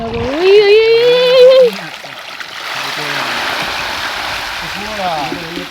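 Water splashing and rushing with fish in it, where a catch is being hauled in; a voice speaks briefly at first, then a steady, fairly loud watery wash carries on alone, with faint voices returning near the end.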